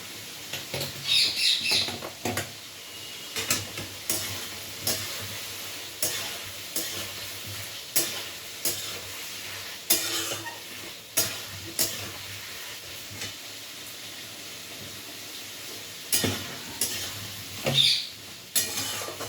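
Ginger, garlic, onion and tomato paste cooks in a pan with a steady sizzle, broken by repeated scraping stir strokes and the odd clink of utensil against pan, close and moderately loud with no talking.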